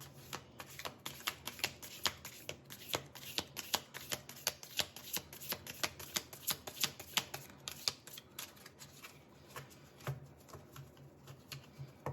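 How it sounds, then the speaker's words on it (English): Tarot cards are shuffled quickly and repeatedly, a soft rapid riffle of flicking and slapping close by, with no talking. "So let's shuffle the cards quickly."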